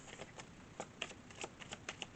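Quiet riffling and snapping of a deck of oracle cards being shuffled, a quick run of soft clicks up close.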